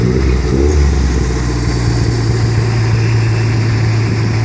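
Engine of a 1974 Ford Pinto wagon idling through a MagnaFlow MagnaPack muffler, a steady, loud, close low exhaust drone with no talk over it.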